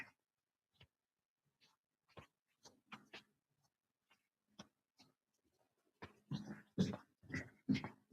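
A sleepy puppy gives soft, scattered whimpers and small squeaks, quiet and close, growing into a louder cluster of whines toward the end.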